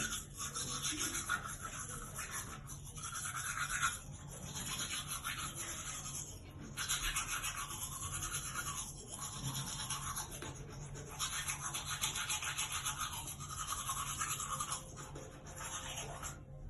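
Teeth being brushed with a toothbrush, a steady close scrubbing rasp in repeated back-and-forth bursts with brief pauses, running continuously without speech.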